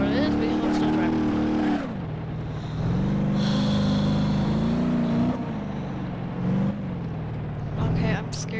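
A car engine drones steadily in BeamNG.drive on a mountain road, its pitch rising and dipping with gear changes and throttle, loud and close, with talk over it.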